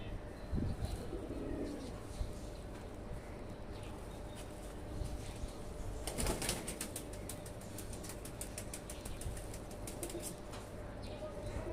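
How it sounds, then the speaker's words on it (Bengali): Pigeons coo in low, soft murmurs over a steady background hiss, with a brief burst of wings flapping partway through. "কবুতরগুলো"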